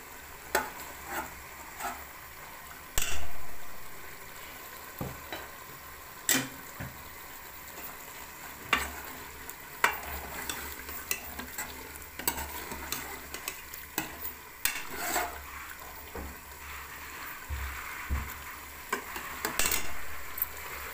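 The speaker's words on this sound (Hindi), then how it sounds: "और इसमें ऑयल डाल के अच्छी तरीके से भुनाई करूँगा।" Goat tripe sizzles and crackles in hot oil while a spoon repeatedly scrapes and stirs it in the pot, producing irregular metallic clinks over a steady close frying hiss with no voices.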